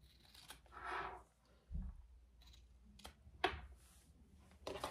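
Scissors snip fabric corners while sewing a waist pack, a few short crisp cuts and rustles spaced out over quiet room tone, close and fairly soft.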